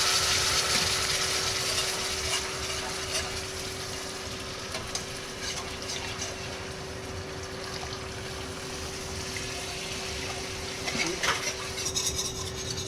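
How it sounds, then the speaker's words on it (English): Stock is stirred into a flour-thickened sauce in a pan, giving soft, continuous scraping and swishing at close range with a faint steady hum underneath and occasional light clinks, with no talking. "at this point, stock can go in"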